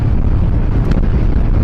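Strong wind buffeting the microphone, a loud continuous low rumble with no voices.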